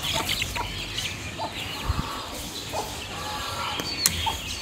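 Hens cluck intermittently in a farmyard while being fed grain, several short soft calls scattered through steady background noise.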